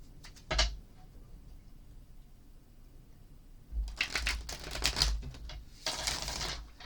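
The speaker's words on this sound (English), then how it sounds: "we're going to go ahead and pull some tarot cards now" Tarot cards are shuffled and pulled close by in quiet surroundings: a brief riffle early on, then a longer run of crisp shuffling bursts toward the end.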